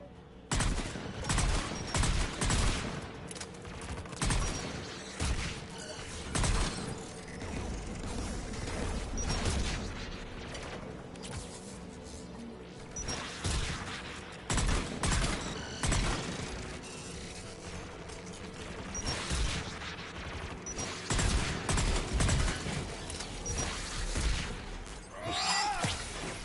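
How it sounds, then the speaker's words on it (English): Anti-aircraft guns in Mass Effect Legacy pound away in repeated heavy bursts, with loud booming volleys and mechanical clatter rolling on steadily throughout. "There, the anti-aircraft guns."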